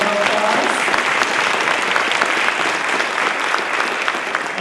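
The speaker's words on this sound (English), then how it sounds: "So let's give them a round of applause." Sustained, loud applause from a crowd at a college convocation ceremony honoring program graduates, dense clapping continuing evenly for several seconds with no talk over it.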